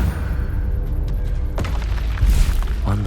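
Confringo blasting spell explosions in Hogwarts Legacy: loud rumbling booms and thuds, a sharp blast midway and another heavy burst near the end over a low background rumble.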